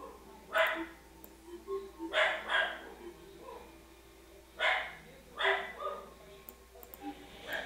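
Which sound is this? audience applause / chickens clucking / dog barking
dog barking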